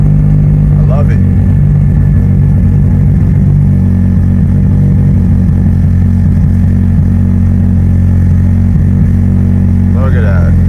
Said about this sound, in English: Cold start. There was no clutch, no gas pedal. Fired right over.